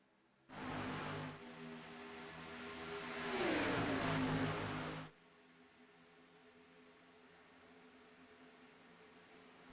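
Race car engines rev up and roar as the field accelerates off the green flag at Talladega, a swelling engine burst for several seconds that then cuts to a low steady hum.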